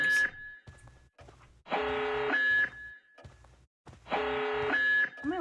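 Alarm in the Georgian Presidential Palace level of Tom Clancy's Splinter Cell, a loud pulsing electronic siren that cycles in repeated blasts about every two seconds, with game sounds between bursts.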